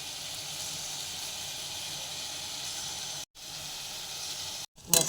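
Ground spice paste hits hot oil with onion and capsicum in a pan, giving a steady close hiss and sizzle, broken by two brief silences and a small clatter at the very end.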